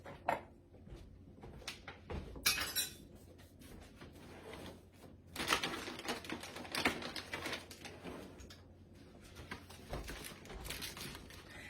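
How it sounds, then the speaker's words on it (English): Aluminum foil crinkles and rustles as it is pressed over a farm-style casserole dish, coming in irregular crackly bursts up close with no talking. "And I'm going to put some aluminum foil over this."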